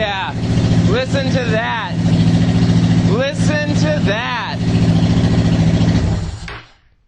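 Honda Shadow Phantom motorcycle engine runs steadily after an injector replacement, a loud, even idle with a smooth rumble close by, while a voice talks over it before the sound cuts off.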